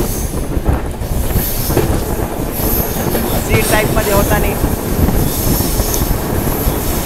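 Humsafar Express train number 22887 from Howrah running on rails, a loud steady rumble with wheel squeal and rhythmic clatter heard from inside, a voice talking briefly under it.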